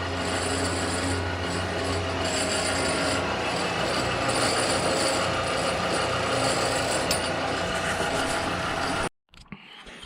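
A 1917 20-inch Flather lathe cuts off a piece of stock in a steady, loud mechanical grind with a ringing metallic whine, running continuously for about nine seconds before abruptly stopping.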